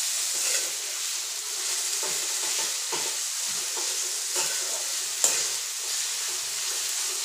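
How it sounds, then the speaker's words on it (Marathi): Tomato and ginger-garlic paste stirred in a frying pan, a steady close sizzle with scraping spoon strokes throughout, no voices. "असं पूर्ण मिक्स करून घ्यायचं, हलवून घ्यायचं छान"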